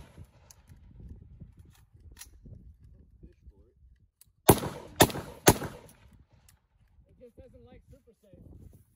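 Three sharp, loud gunshots from a .450 Bushmaster rifle fire in quick succession outdoors in Texas, cracking out over low background voices and ambient noise before quieter talk resumes.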